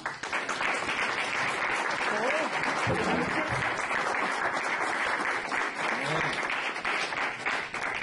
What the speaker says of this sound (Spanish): Un aplauso a Cristo, hermano